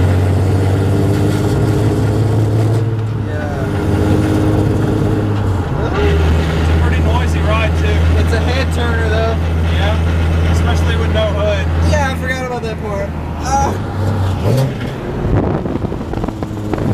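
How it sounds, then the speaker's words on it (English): A car engine runs rough and misfires under throttle while driving, a steady loud drone with stumbling low pulses, and people talk over it throughout. "If I give it too much gas, it starts misfiring."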